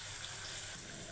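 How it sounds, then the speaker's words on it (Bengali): Water pours steadily into powdered milk being dissolved while cooking pasta with chicken, a brief soft hiss and trickle heard alone and close. "এই যে গুঁড়া দুধ রাখছিলাম এগুলাকে একটু গলিয়ে নেবো পানি দিয়ে।"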